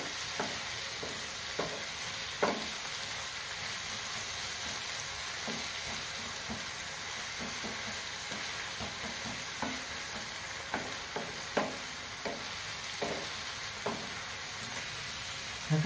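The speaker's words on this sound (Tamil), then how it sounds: "தக்காளி நல்லதாக மேஷ் ஆகிற மாதிரி வதங்கணும்" Tomatoes and onions sautéing in a pan for egg keema masala, a constant sizzle broken by repeated light stirring clicks and scrapes throughout, with no one speaking.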